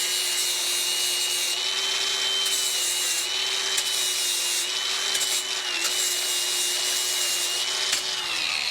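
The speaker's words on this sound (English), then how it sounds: "So we're going to go ahead and clean this up real quick with the grinder." An angle grinder runs steadily against a metal edge, cleaning off oil and surface grime before welding in a hot rod build. It makes a continuous, close, high motor whine that holds level for the whole stretch.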